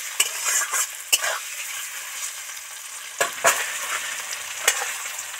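Paneer fries in butter and oil with salt, giving a steady sizzle under repeated sharp spatula knocks and scrapes against the pan, close and without talk.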